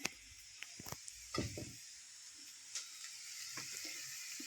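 Onion and carrots stewing in a pan, a quiet steady sizzle with faint hiss and a few soft clicks and scrapes of stirring.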